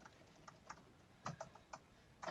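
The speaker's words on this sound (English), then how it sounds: "There's a website where you can just type random things into the keyboard and it'll look like that." Random keys are tapped on a computer keyboard, a faint, uneven run of soft clicks coming in small irregular clusters, heard up close and alone.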